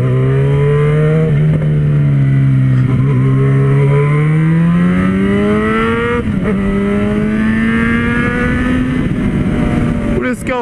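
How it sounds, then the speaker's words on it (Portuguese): A four-cylinder motorcycle engine revs loudly and close, its deep harmonic drone rising slowly in pitch, with brief throttle blips along the way and no talking. "o som dessa moto, fala a verdade, é lindo demais"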